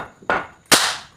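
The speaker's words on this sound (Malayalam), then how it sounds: "ചൈനീസ് പടക്കല്ലേ?" Two sharp Chinese firecracker bursts at a Vishu celebration, a softer crack followed by a louder, brighter bang with a short decaying tail, close and with no talk.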